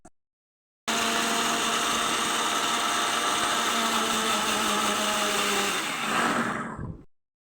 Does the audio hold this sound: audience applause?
no